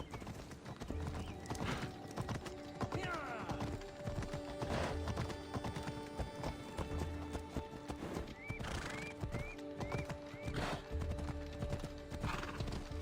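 Horse hooves clip-clop steadily in a gallop through a busy fantasy game scene, with repeated neighs and whinnies rising over layered music and ambient effects.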